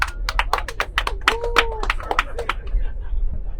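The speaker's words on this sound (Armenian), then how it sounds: "Stevie Wonder, խնդրեմ աջակցեք ծափերով։" An audience claps in bursts of irregular hand slaps to vote for Stevie Wonder aboard a festive bus show, loud and close, with a voice briefly speaking over the applause before it thins out.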